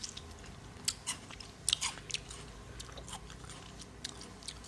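Close, crisp crunching and chewing of a sour, crunchy balimbi, a fruit in the star fruit family, with several sharp bites followed by steady mastication in a quiet room and no talking.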